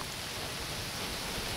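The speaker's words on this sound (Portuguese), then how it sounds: "Tá chovendo muito aqui, pessoal." Heavy rain pours in a steady, hissing broadband wash, quiet and continuous throughout with no voices.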